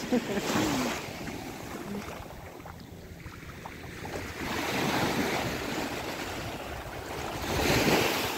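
Sea waves wash onto the beach at Port Fouad, Port Said, a steady broadband surf with swelling rushes, the loudest near the end, mixed with wind buffeting the microphone.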